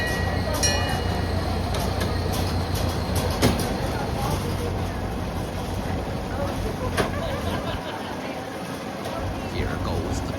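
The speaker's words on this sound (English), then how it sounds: "Here goes the train." A passenger train ride at a zoo rolls along with a steady, continuous rumble and clatter, close and constant throughout, with faint voices mixed in beneath.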